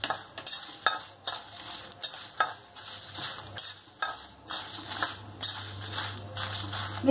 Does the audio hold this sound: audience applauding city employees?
no